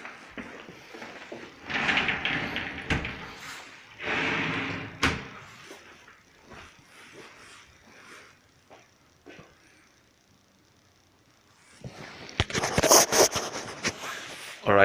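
Sliding doors of a ceramic shower tray enclosure being opened, giving a run of rolling scrapes, rattles and sharp knocks of glass and frame, louder at the start and again in a dense burst near the end.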